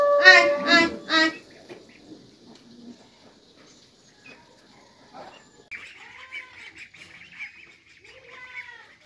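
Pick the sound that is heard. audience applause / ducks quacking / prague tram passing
ducks quacking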